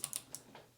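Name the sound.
keycap clicking back onto Keychron C2 keyboard switch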